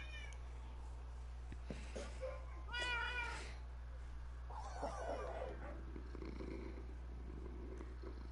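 Several cats meow in a video game, a few short, distinct meows over a steady low hum, with some softer whimpering cries later and no speech.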